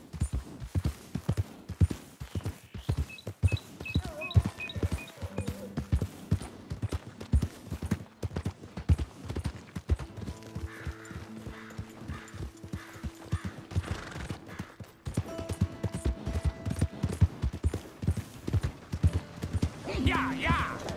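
Horse hooves clip-clopping in Red Dead Redemption 2, a rapid steady rhythm of hoofbeats throughout, with occasional game sounds, music tones and voices talking over parts of it.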